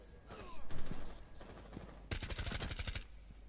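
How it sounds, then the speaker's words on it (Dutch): Rapid burst of automatic gunfire in the tactical shooter game Rainbow Six Siege, a dense run of about a dozen shots lasting roughly a second, preceded by quieter in-game noises and game sounds. "Dennis, schiet zijn lul eraf."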